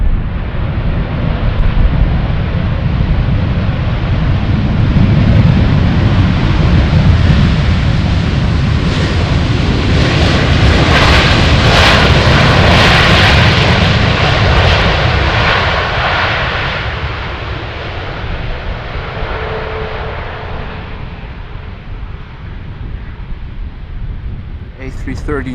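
An Airbus A330neo airliner arrives on runway 18R at Amsterdam Schiphol. Its loud, steady jet roar builds, peaks and slowly fades, with wind buffeting the microphone throughout.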